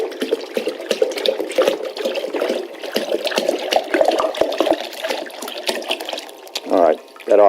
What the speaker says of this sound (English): I'm going to pour it into this vase because I want to show a quick demonstration.